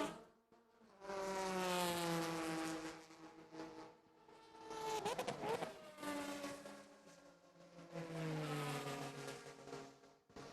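A Super GT race car at Suzuka screams past in a high, buzzing engine note that rises and falls, with gear changes and a second wave of engine whine following, steady and fairly distant.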